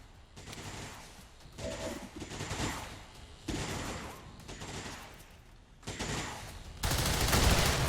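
Repeated bursts of gunfire rattle out in the turn-based tactics game XCOM 2, several volleys with brief gaps between them, ending in a louder, denser blast.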